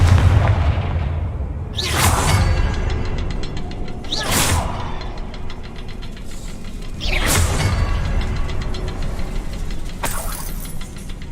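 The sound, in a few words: Confringo explosion spell in a Harry Potter video game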